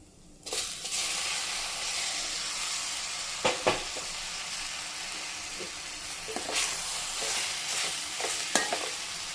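A spinach and green gram mixture frying in a pan while it is stirred, a steady close sizzle broken by occasional scraping strokes of the spoon.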